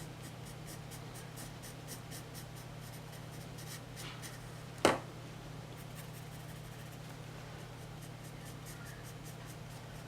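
Pencil shading on paper, a soft continuous scratchy rubbing with a faint repeated ticking, one sharp tap midway, quiet and close over a steady low hum.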